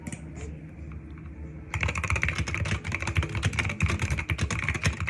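Keys typed on a stock Wooting 60 HE keyboard start after a quiet moment, then continue as a dense, rapid, close clatter of presses.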